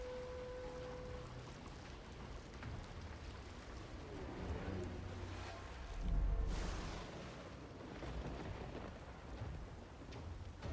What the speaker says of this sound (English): I think we'll put some rain just back here.